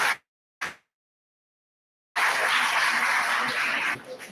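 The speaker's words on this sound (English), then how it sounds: "I request all of you to please clap" Audience applause at a homeopathy seminar, starting with a couple of brief isolated bursts, then a gap of silence, followed by loud continuous clapping that fades slightly toward the end.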